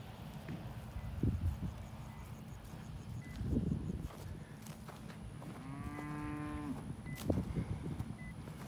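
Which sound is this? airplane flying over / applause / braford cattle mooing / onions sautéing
braford cattle mooing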